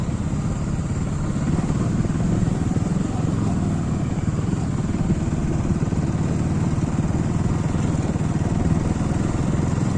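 A motorcycle engine drones steadily and loudly close by as the bike rides over a rough road, with a constant rumbling roar and no pauses throughout.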